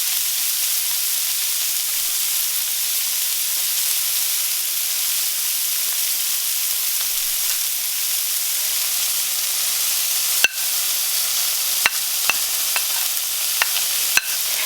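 Carrots sizzle in a couple of teaspoons of oil with a steady bright frying hiss throughout, later punctuated by several sharp clicks or taps from a utensil against the pan.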